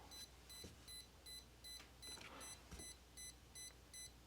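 A brushless speed control on an MN Model MN128 RC truck beeps during throttle calibration, a steady series of short, evenly spaced high electronic tones, about ten in quick rhythm, fairly quiet over a low background hum.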